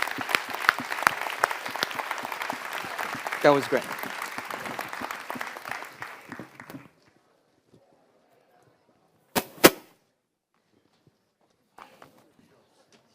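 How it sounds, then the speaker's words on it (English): A panel audience breaks into steady applause that runs several seconds and then stops abruptly, followed by near silence, a couple of brief knocks and a short spoken remark. "Can we give a round of applause to the three panelists?"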